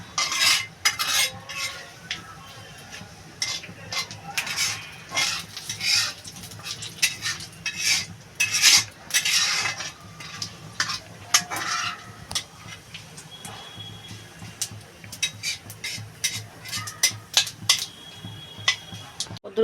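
Chopped pumpkin and slit green chillies tipped into a pan and stirred, giving repeated metallic scrapes and clinks of the spoon against cookware, irregular and close, with short pauses between bursts.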